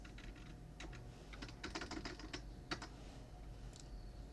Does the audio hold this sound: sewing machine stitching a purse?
no